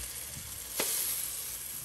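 Capsicum sizzles steadily in a hot pan for tofu bhurji, a continuous close frying hiss with a brief sharper burst partway through as the pieces are stirred; no one speaks.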